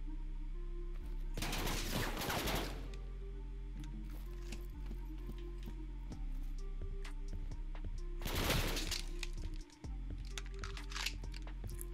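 Gunfire from the fastest gun in the Roblox-style game Jailbird, heard as two dense bursts of rapid shots around two and eight seconds over a steady game background hum, with scattered quieter clicks between.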